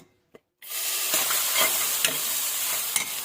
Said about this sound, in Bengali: ভালো করে ফ্রাই করে